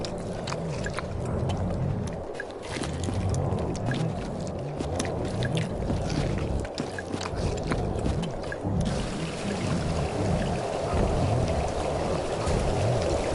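Continuous rushing, trickling water flow from the video game Dark Eye, steady and fairly loud throughout with a brighter, hissier texture in the last few seconds.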